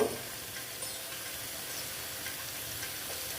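Pointed gourd with sesame seeds frying in a pan gives a steady, soft broadband sizzle. It holds evenly throughout at low level, with no voices.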